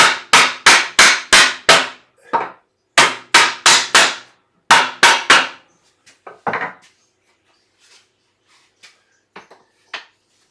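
A wooden mallet strikes timber joint pieces of a dovetailed sewing table in two quick runs of about five loud, close, evenly spaced knocks, then a scatter of softer taps and light wooden knocks.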